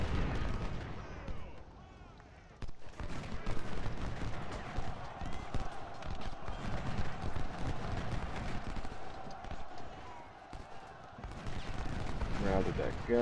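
Artillery and musket gunfire in the Ultimate General: Civil War video game: dense, crackling volleys and booming shots roll on continuously, mixed with a battlefield din.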